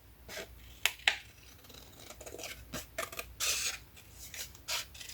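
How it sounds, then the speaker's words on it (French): Scissors snipping through card while making a greeting card, a series of short crisp cuts and rasping scrapes close by, with one longer rustling cut near the middle. "on va juste couper"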